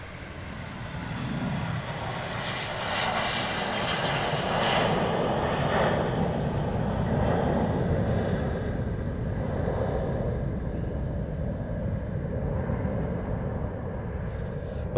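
A Boeing 747 jet in a special livery departs Stansted Airport, its engines producing a broad, loud roar that builds and holds, then slowly thins and recedes into the distance.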